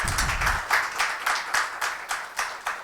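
A festival audience claps in a fairly quiet round of applause, with individual claps pulsing in a loose, regular rhythm for a few seconds.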